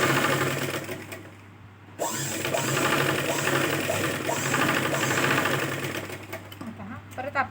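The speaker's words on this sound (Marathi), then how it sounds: "त्याच 3 इंचाच्या टिपवर आपल्याला परत एखादी शिलाई मारायची आहे" A sewing machine runs steadily, stitching blouse fabric with a fast mechanical chatter that pauses briefly and then starts again. The machine is close and fairly loud, and a voice speaks now and then.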